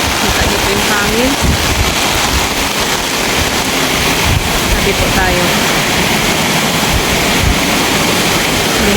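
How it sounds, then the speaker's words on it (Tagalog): Heavy rain pours down with strong wind gusting loudly over it during a typhoon in Bicol, Philippines, while a person speaks briefly under the constant roar. "May hangin na po kasama yung ulan."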